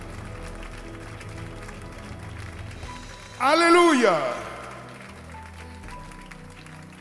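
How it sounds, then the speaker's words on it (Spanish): Church congregation applauding together during a worship service, a short burst of clapping swelling briefly over a preacher's voice and background music before fading back under continued speech. "Dale un aplauso al Señor con todo tu corazón"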